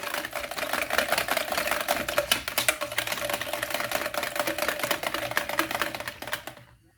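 Milk is whisked into Yorkshire pudding batter in a bowl, a rapid, even stream of close ticking whisk strokes that runs steadily and then stops abruptly near the end.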